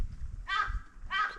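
Two harsh, drawn-out crow caws ring out on a mountain path at Geumsan in Namhae, separated by a short pause over a low rumbling outdoor background.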